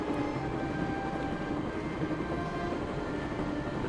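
Steady train interior ambience from the Broken Sword video game, a continuous low rumble with faint tonal hums, evenly loud throughout with no talking.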